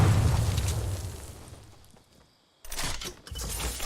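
A grenade explosion in Fortnite Battle Royale booms loudly and decays over about two seconds into near silence, followed by a second sharp burst of game noise.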